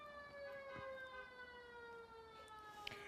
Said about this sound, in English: the ambulance sounds kind of make it a vibe, though.